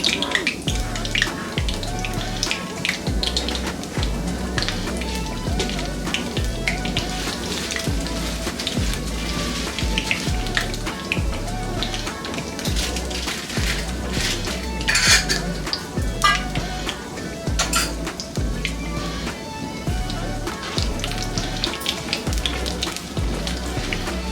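Urad dal and chana dal roasting in a pan for masala poha, a steady close crackle and rattle of lentils with repeated scrapes and clinks of a metal spoon against the pan.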